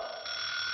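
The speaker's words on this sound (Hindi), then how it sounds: "अरे सुबह सुबह ये अलार्म क्यों बजने लगा?" An alarm clock rings in the morning with a steady, sustained electronic tone, loud and close, holding without pause for the whole moment.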